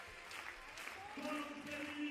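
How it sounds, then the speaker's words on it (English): A French crowd applauds at an indoor athletics meeting in Lyon, a soft, distant wash of clapping beneath a commentator's voice. "ovations that he's receiving from his French crowd"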